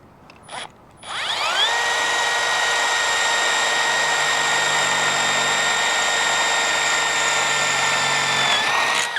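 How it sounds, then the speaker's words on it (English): A power drill bores holes for a Jeep Gladiator light bar. After a brief pause it spins up into a loud, steady, high whine that holds evenly for several seconds, and the pitch dips slightly as it winds down. "drill bits are doing what they're supposed to do."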